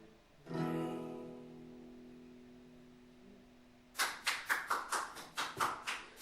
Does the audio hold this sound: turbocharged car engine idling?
no